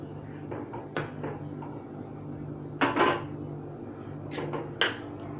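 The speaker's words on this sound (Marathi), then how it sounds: "आता आपण प्लेटमध्ये काढून घेऊया" Dhaba-style masoor curry being served from a pan onto a plate, with a few sharp metallic clinks and scrapes of a spoon against the pan, close, over a low steady background hum.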